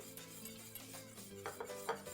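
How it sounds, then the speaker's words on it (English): A whisk scrapes and stirs through thickening polenta in a pot, soft continuous stirring with a few sharper clinks of metal against the pot, close and quiet with no talking. "And just keep stirring continuously."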